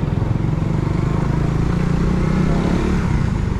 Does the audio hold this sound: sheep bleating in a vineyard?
no